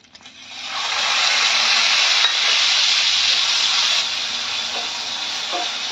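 Grated onion hits a hot pan of whole spices with a loud, steady sizzle that swells within the first second and holds, easing slightly toward the end, close and without talk.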